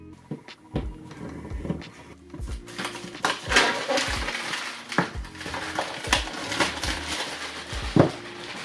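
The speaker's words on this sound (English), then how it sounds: "Let's get that knife back and cut the plastic off." A knife cuts the plastic wrap off a silvery cardboard box for an ASUS ROG Flow Z13 gaming tablet: irregular close crinkling, scraping and tapping, with a few sharper clicks and knocks, and no talking.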